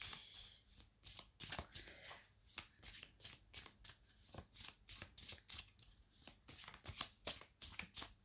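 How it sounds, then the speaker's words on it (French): A deck of cards shuffled and cut during a card reading, the crisp riffling ripples rising and falling in a steady run of quick, close bursts with no voices over them. "Je coupe. Je prends une carte."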